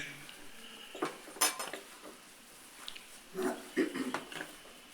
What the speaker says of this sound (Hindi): इस सब को इसमें मिक्स कर देंगे।